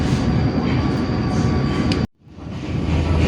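A Commuterline train on the Sindro line toward Sidoarjo, Indonesia, rumbles loudly and steadily along the rails. A brief sudden drop in the noise is followed by the roar building back up.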